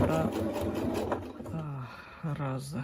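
A sewing machine stitches a seam on a cap, its steady mechanical whir running beneath a person talking throughout.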